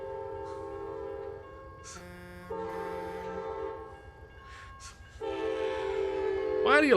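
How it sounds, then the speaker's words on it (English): Train horn blasts sound in American Truck Simulator, several sustained tonal honks separated by short gaps, loud and fairly near over a low engine hum, the last blast swelling at the end. "There is still a train horn."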